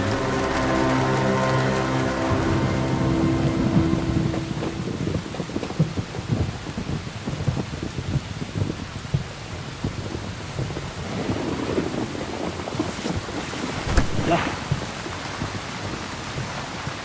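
Steady rain falls throughout with occasional rumbling thunder, after an opening few seconds of music-like tones over the downpour; a single short word is spoken.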